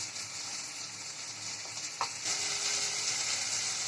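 Chopped onion dropping into hot oil for a potato curry sets off a steady, bright sizzle, with a short clatter near the middle before the frying swells louder and continues close by, no talking.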